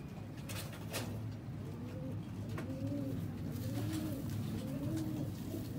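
Game pigeons held in hand, a pair, cooing in soft repeated rolling coos close by, several calls in a row over a low steady background hum.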